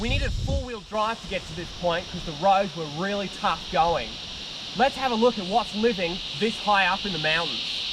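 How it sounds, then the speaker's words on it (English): Cicadas drone in a steady, high-pitched buzz throughout, heard in the background at a mountain waterfall on Australia's Sunshine Coast hinterland, while someone narrates over them. "there are a lot of cicadas around, so you're going to hear some of those cicadas in the background because they were deafening."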